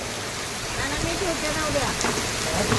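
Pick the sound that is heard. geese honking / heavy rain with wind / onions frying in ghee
heavy rain with wind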